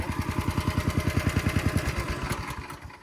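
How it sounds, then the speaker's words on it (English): A little red Ferrari engine idles with a steady, rhythmic chug up close, then the pulses slow and fade as it winds down toward shutoff. "Just let it idle down for a minute."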